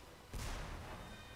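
A bomb blows up in the Magicka video game with a single sudden muffled boom that fades out over a second.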